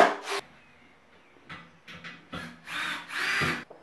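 A power drill fixes metal rails to a wall for dressing-room shelving, sounding as several short, whirring bursts of varying length that start and stop in quick succession, close and fairly quiet, with no speech.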